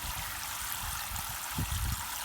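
Water streams steadily from an Oxygenics RV shower head into a tank, a continuous close hiss and splash with a slightly heavier gush near the end.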